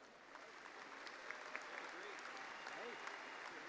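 Audience applause at a university MBA graduation ceremony, faint and steady, a distant wash of clapping from a large hall lasting a few seconds.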